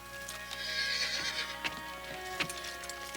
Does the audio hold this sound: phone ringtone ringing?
no